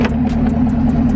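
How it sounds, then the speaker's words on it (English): A 2017 Chevrolet Camaro SS V8, warm and still on stock exhaust before a Kooks headers install, rumbles steadily at close range, a deep continuous engine drone with a lumpy pulsing beat and no talking. "just wanted to show y'all the last, you know, just warm startup what the car sounds like"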